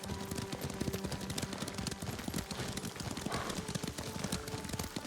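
Horse hooves clip-clop at a riding pace in the video game Ghost of Tsushima, a quick, steady rhythm of close footfalls over background game sound and faint tonal music.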